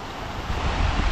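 Water rushing down Anju Veedu falls in Kodaikanal, a loud, steady, close roar of flowing water that swells slightly over its brief length, with no talk.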